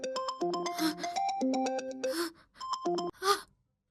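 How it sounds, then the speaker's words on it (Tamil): A mobile phone rings in a Tamil TV serial scene with a loud, close electronic ringtone melody of quick tonal notes that plays for about three and a half seconds, then stops. "என் ஃபோன் அடிக்குது சார்"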